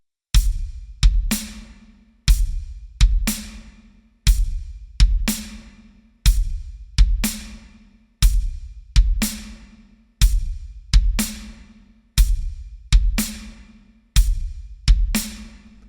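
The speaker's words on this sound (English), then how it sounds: "So slowly the groove will sound like this." A drum kit plays a slow quarter-note groove, the kick landing on 1 and the ah of 1, then on 3 and the ah of 3, with snare and cymbal hits in a loud, even repeating pattern and no talk.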